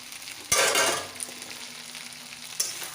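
A spice masala with cumin powder sizzles steadily in a pan while being stirred for a cumin rohu fish curry, with a loud scrape at the start and another near the end over a soft, continuous fry.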